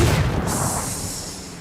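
Mortar shell bursting in PUBG: Battlegrounds during an esports qualifier match, a single loud boom at the start that decays into a rumbling, hissing tail with no speech over it.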